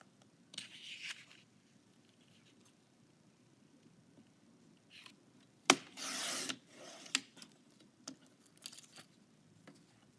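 A paper trimmer slices half-inch strips of paper, giving brief, quiet swishing cuts with a scraping slide of the blade. The cuts stand out against near silence, with faint handling rustles around them.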